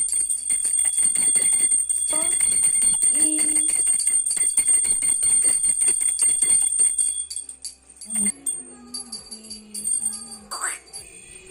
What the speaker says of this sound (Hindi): घंटी बजाने लगे हैं, मेरे हाथ से लेके बोल रहे हैं मैं बजाऊंगा।